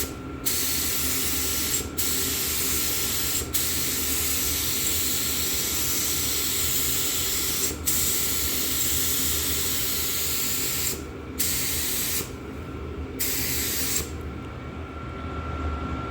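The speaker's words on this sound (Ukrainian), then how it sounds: "Другим шаром ми вже більш плотніше положимо та і все." A spray gun applies a paint coat to a car, hissing steadily and closely in long continuous passes broken by several brief pauses between strokes, with no talking.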